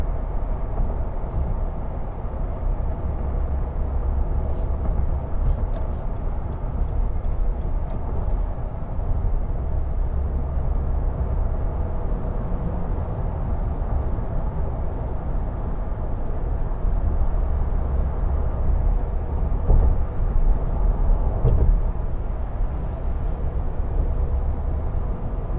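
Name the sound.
2022 Nissan Frontier Pro-4X cabin noise driving on highway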